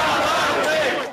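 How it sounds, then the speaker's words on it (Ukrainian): A street crowd in Luhansk cheers and shouts joyfully as soldiers leave a seized regional administration building, a dense, loud roar of many voices sustained throughout. "під радісні вигуки юрби адмінбудівлю полишили і солдати внутрішніх військ"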